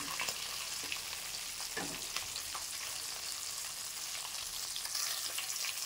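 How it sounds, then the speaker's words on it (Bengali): Dried red chillies and bay leaves sizzle in hot oil with a dense, continuous crackle and a few small pops and stirs, close and steady throughout, with no speech. "তো দেখো ফোড়নে দিয়ে দিলাম শুকনো লঙ্কা আর তেজপাতা"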